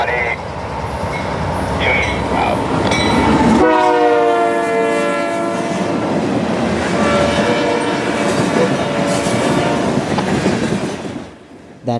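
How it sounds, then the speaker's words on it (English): A Norfolk and Western high-hood diesel locomotive, number 1627 and built in 1973, leads a freight train with a caboose past on the Cleveland Line. It gives loud, close horn blasts, followed by a steady rumble and clattering wheels as the cars roll by. "This is the train I was talking about earlier with the N&W high hood and a caboose."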